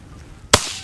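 A single loud shotgun blast at a goose during a Michigan goose hunt cuts sharply through quiet outdoor background, then fades quickly.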